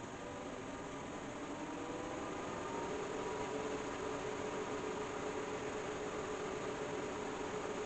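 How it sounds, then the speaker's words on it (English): Gaming PC fans spin up and hum at a steady rate, a constant broadband whir with a faint engine-like tone, close and even throughout with no talking. "Fans are spinning."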